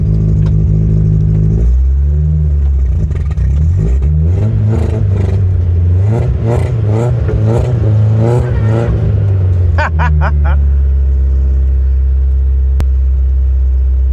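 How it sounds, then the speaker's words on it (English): A barn-find Ford Escort Mk2 engine runs steadily at a loud, close idle, rising into a few revs partway through, with faint talk at moments. "So, engine running sweet."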